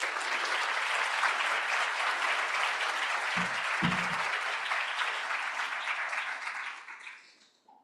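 An audience welcomes a speaker to a conference welcome address with steady, full applause, many hands clapping evenly before fading out toward the end.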